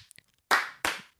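Two sharp hand claps a short pause apart, crisp and fairly close, preceded by a few faint small taps in an otherwise quiet room.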